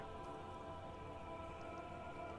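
Rain in the video game Disco Elysium falls as a steady, even hiss, soft and continuous with no other sounds.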